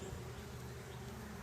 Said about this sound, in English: these are pretty chippy bees